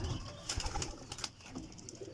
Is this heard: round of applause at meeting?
no